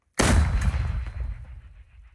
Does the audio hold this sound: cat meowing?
no